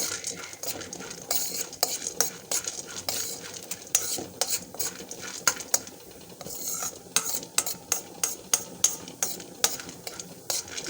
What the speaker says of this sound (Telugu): ఆ లవంగాలు అవి నూనె వేసినప్పుడు బాగా వేగుతాయి